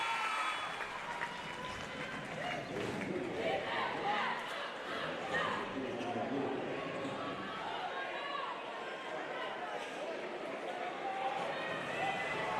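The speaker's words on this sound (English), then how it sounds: "The crowd that's trying to make some noise to rattle the senior." A high school basketball crowd at a regional final roars continuously during a free throw, a dense, steady wall of shouting and noise that sits somewhat distant and fairly quiet throughout.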